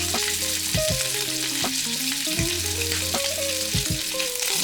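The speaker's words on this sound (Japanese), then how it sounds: "ちょっとずつ回しながら側面もしっかり焼き色をつけていきます。" Paupiettes, French stuffed meat rolls with cheese, searing in a frying pan, a steady close sizzle and hiss of browning meat that runs throughout beneath light background music.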